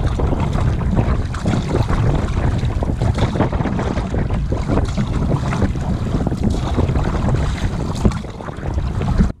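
Strong west wind blows steadily across Upper Hatchet Lake during a solo canoe crossing, a loud continuous rush with gusty buffeting on the microphone and faint water movement beneath, no talking.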